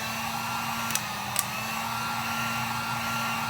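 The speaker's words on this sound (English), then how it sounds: "So we're gonna take this shrink wrap, slide it on. Use your heat gun." Heat gun blowing on shrink wrap over a 20 oz skinny sublimation tumbler, a loud constant fan-and-heater roar with a steady hum and two brief clicks partway through.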